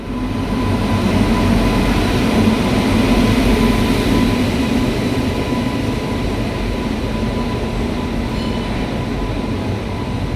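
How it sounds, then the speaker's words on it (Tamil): A Varanasi-bound passenger train from Kerala arriving at Coimbatore station rumbles steadily and loudly nearby, a continuous heavy roar of rolling cars with a faint high whine, no voices. "நம்ம கோயம்புத்தூரில் கேரளாவிலேருந்து வர வாரணாசி ட்ரெயின் வந்துருச்சு."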